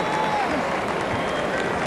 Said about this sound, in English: Even Rick Barry's young son applauds these rookies